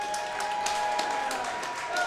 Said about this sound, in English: let's give these two fighters a big round of applause